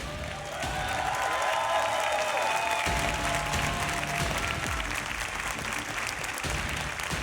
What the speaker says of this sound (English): I know you guys would be the first to lead that applause for them